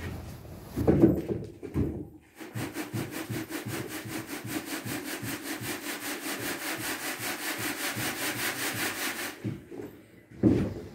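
Building mix being worked on a plywood sheet indoors in a room with an uncast floor, a steady rhythmic scraping and rubbing that runs on for several seconds between a few louder knocks.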